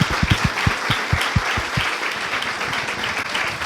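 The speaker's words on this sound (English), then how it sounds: "Give them a round of applause." Audience applause at an evening Glug London event, a steady dense clapping from a crowd that carries on through the whole stretch, with some sharp low thumps up front and no voices over it.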